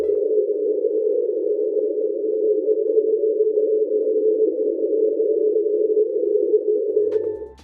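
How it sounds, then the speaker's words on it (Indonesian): Hydrophone recording known as Train, an iceberg dragging along the ocean floor: a steady, loud mid-pitched droning hum sustained unbroken for about seven seconds before stopping abruptly. "hidrofon otonom milik EPO menangkap suara kereta yang"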